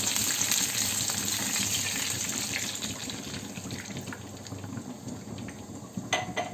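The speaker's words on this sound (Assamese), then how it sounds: "এতিয়া মই ইয়াত এগিলাচ পানী ঢালি দিম।" Water poured from a glass into a pan of fried food sets off a steady, dense sizzle and hiss that stays loud throughout and slowly eases toward the end.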